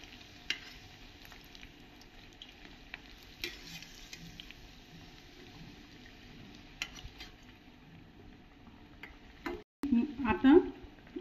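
Raw papaya vadas frying in hot oil: a low, steady sizzle, with a few stirring clinks and a louder scrape near the end, under someone speaking Marathi.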